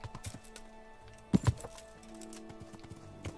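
Horse hooves clip-clop in the Kingdom Come: Deliverance video game, a few close, sharp hoof strikes clustered together over quiet in-game ambience.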